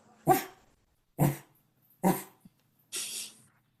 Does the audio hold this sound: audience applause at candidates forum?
no